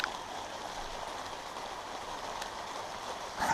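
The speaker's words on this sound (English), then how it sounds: "It's starting to rain." Steady rain falling outdoors during work on a VW Type 2 camper's Devon pop top support frame, a continuous broadband hiss at moderate level from start to finish, with a brief louder patter near the end.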